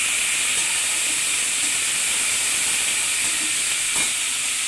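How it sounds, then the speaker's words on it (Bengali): Garlic sizzles in hot oil for tempering, a loud, dense, continuous hiss and crackle that stays steady and close throughout. "আমি একটু রসুন দিয়ে তেলে বাগার দিলাম"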